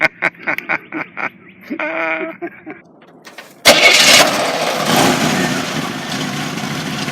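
People chatter briefly, then the 231 V6 engine of a 1949 Willys Jeepster cranks and roars to life, settling into a loud, steady idle close by.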